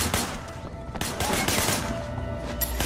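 Gunfire in the open-world game Sleeping Dogs, rapid bursts of shots cracking out in quick succession, loud and close, layered over game ambience.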